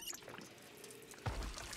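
A character drinks water in the zombie survival game Project Zomboid, a short soft pouring and gulping liquid sound that swells near the end, heard alone at low volume.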